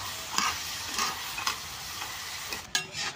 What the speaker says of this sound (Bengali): এমনি ভাজা হয়েছে আমার, সবটি কুরকুরি ভাজা হয়ে গেছে।